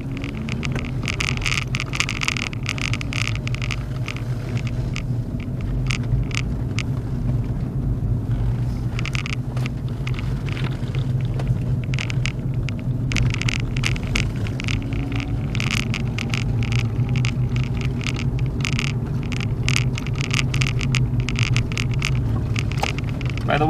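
Steady engine rumble and road noise heard from inside a moving car on a tour drive, a continuous low drone with bursts of rattling vibration and no talking.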